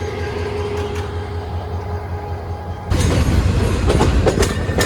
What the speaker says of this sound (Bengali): এই মুহূর্তে আমাদের কমিউটার ট্রেন ভাওয়াল গাজীপুর থেকে ছেড়ে দিল